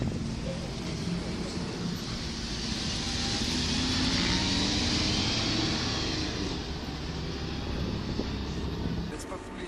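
A Lamborghini LP 640-4 coasts in second gear at about 30 km/h along a circuit access road, its low engine drone and wind rush steady throughout while people talk over it.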